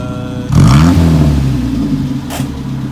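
Toyota KP30 with a new HKS exhaust welded from the front revs sharply, one loud close rising roar that falls away, followed by a short burst near the end.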